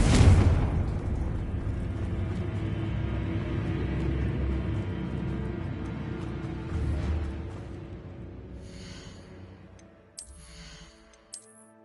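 A Confringo fire-spell explosion in Hogwarts Legacy: a sharp blast at the start, then a long low rumble that slowly fades, followed by a few faint ticks and small pops.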